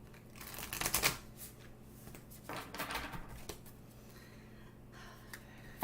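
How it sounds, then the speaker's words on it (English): A deck of tarot cards is shuffled by hand close up, with riffling bursts and soft flicking that come in uneven waves, quiet and without talk. "One more good shuffle"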